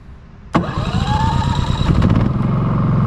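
A Champion 4500 dual fuel generator starts abruptly, then settles into a loud, close, steady engine run with a rough, throbbing idle.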